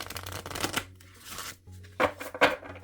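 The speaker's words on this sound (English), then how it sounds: "I can only shuffle this from the corner up here because these are so tall and skinny" Tall, skinny Kamito Yokai oracle cards are shuffled from the corner in a handful of quick, crisp riffling bursts separated by short pauses, close and clear.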